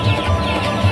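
Cartoon hen and rooster clucking in short low bursts, a few clucks spread across a brief moment with no talking over them.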